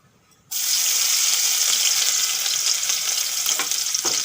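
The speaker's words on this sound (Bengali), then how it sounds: "আদা আর রসুনটা ভালো করে ভেজে নেব" Chopped ginger and garlic hit hot oil with a sudden loud sizzle that bursts in after a short silence, then stays as a steady bright frying hiss, with a couple of faint clinks near the end.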